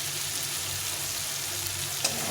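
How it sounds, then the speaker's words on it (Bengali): Spices fry in oil on low heat for a chana dal made without onion or garlic, a steady close sizzle with one sharp clink of a utensil near the end. "কমিয়ে দিয়ে মশলাটা ভাজলে মশলাটা ভালো হয়, লেগে যায় না, আর সুন্দরভাবে ভাজা হয়ে যায়"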